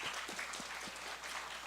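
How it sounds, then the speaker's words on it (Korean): A congregation at a high school youth worship service claps together in a steady, dense burst of applause, moderately loud and without talk. "우리 고3 랩런트들이 힘내라고 격려하면서 축복하면서 박수 한번 보냅시다."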